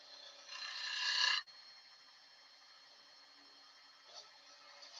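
A woodturning scraper cuts spinning wood on a lathe, a rising rasping scrape that stops abruptly after about a second, leaving the lathe's faint steady hum and a brief light touch later.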